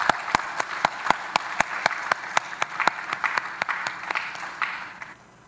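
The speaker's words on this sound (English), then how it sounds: "Can we give them all a round of applause, please?" An audience at a panel discussion applauds, a steady patter of many hands with a few sharp individual claps standing out, fading out at the end with no talking.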